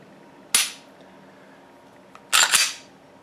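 A Glock G43 pistol trigger is dry-fired, giving a sharp, close mechanical click, then after a pause a quick double click as the trigger resets, with near silence between.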